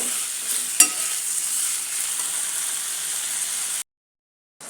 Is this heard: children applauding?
no